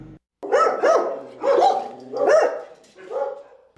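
Dogs rescued from Midwest puppy mills bark in a series of four or five close, sharp yaps with short pauses between, heard alone without talk.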